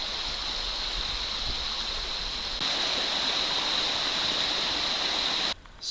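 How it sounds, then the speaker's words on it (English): A river stream flows steadily along the Appalachian Trail in the 100 Mile Wilderness, a continuous close rushing wash of water that grows slightly louder midway and then briefly drops away near the end. "Real nice just walking along the river."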